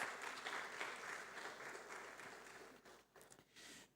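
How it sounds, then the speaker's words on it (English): An audience at a university publishing studies colloquium applauds in a steady, soft wash of many clapping hands that thins slightly toward the end, heard faintly and at a distance with no talking. "Can we give him a hand of applause?"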